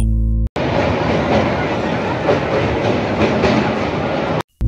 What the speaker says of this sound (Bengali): ট্রেন বালি ব্রিজে উঠতেই দেখা পেলাম মা ভবতারিণীর মন্দিরের